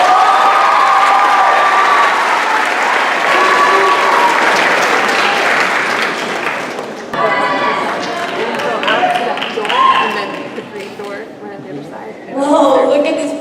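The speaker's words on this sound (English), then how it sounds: "Please join me in welcoming to the stage two of our proud scholars" A crowd at a school graduation ceremony gives loud, sustained applause with cheering as two scholars are welcomed to the stage. It fades after several seconds, then someone speaks, and a brief burst of applause returns near the end.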